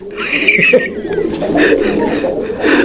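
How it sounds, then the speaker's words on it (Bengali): Male pigeon cooing at a Bangladeshi pigeon market, a close series of throaty, rolling coos repeating in pulses while someone talks over it. "এই নরটাও ডাকাটাই করতেছে, আপনারা দেখতে পাচ্ছেন ভরপুর ডাকে একটা নর।"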